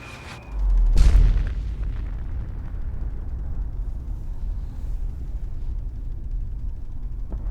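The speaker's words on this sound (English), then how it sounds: "I think that explosion might be even cooler in the daytime" A huge deep boom goes off in Fallout 4 after the big red button is pressed, followed by a long, heavy rumbling roar that slowly fades while staying loud and low.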